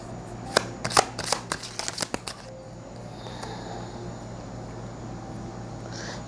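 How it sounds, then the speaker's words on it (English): Tarot cards shuffled by hand in a quick series of crisp riffling snaps for about two seconds, close by, followed by quiet room tone. "I could pull some cards on this for you"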